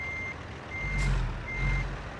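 Backup alarm of a truck reversing in a driving video game: a steady high-pitched electronic tone that pauses briefly and resumes, over a low rumbling engine that swells twice.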